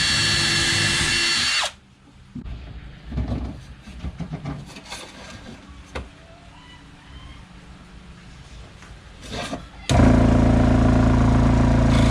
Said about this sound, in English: go ahead and drill a hole